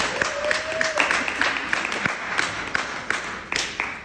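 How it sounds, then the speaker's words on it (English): An audience at a community wellness event claps, a scattered, modest round of applause with distinct individual claps spread across a few seconds amid room noise. "Give her a round of applause"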